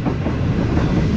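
Steady wheel rumble and faint clickety-clack of the Green Line Express running on Sindh rail tracks, heard continuously from inside the carriage, with no talking.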